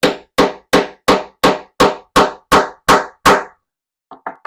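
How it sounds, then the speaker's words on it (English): A hammer repeatedly strikes a tool down onto a small nub while making a cord keeper, about ten sharp, evenly spaced blows, loud and close, followed by a few faint lighter taps after a pause. "we're going to come in with the hammer and we're going to hit that again"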